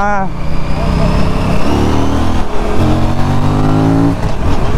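An Aprilia RS 457 motorcycle, a roughly 47 bhp machine ridden on a road test, revs hard with a loud rising engine note that climbs through gears, recorded close from the rider's position with talk over it.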